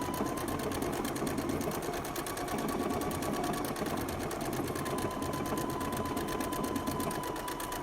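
A sewing machine stitches a circle design in fabric with a steady, fast, continuous mechanical hum and needle chatter close by, running without pause throughout.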